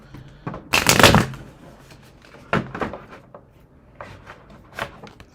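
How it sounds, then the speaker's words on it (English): Tarot cards being shuffled by hand, with a loud riffling burst near the start followed by several softer shuffles and taps, close up and with no talking. "let's shuffle it up one more time real quick"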